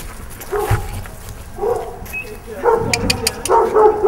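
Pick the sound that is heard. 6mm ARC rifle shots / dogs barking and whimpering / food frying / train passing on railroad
dogs barking and whimpering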